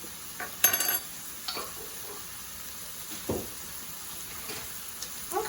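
Carrots and cabbage cook quietly in a pan with minced garlic, a faint steady sizzle broken by a few sharp utensil clinks and stirring scrapes.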